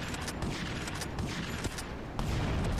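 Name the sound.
explosions and gunfire in the video game Grand Theft Auto: Liberty City Stories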